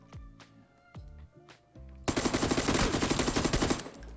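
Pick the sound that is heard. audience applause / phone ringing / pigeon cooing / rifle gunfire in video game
rifle gunfire in video game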